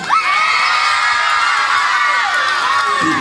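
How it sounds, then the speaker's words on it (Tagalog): Loud cheering and shrieking from a crowd at a coronation pageant night, with high sustained whoops and shouts held at constant volume across the whole stretch. "isang malakas na palakpakan na may kasamang malakas na hiyawan"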